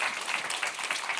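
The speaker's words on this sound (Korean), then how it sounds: "우리 시간이 박수 쳐서 들여보냅시다." Brief burst of audience applause during a church sermon, steady clapping from a gathered congregation heard alone for just over a second.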